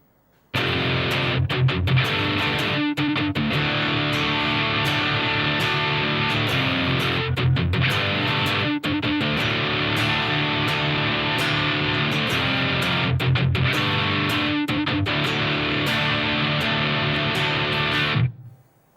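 A distorted electric guitar plays a riff slowly and steadily for about eighteen seconds, loud and close, with brief rhythmic gaps and accents before stopping sharply.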